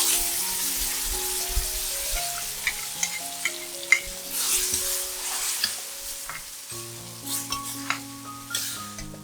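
Blended tomato sauce stir-fried in a pan with black pepper and chili flakes, sizzling steadily while a utensil scrapes and taps the pan in irregular strokes, close and alone with no talk.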